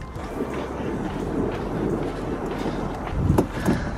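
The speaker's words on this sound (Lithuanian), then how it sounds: "Vėjas pučia nuo greitkelio" Wind blowing in from a highway across a quarry lake makes a steady, loud rumbling buffet with a low roar and no clear breaks.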